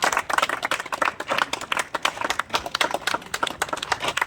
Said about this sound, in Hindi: तालियां बजते रहनी चाहिए भाई।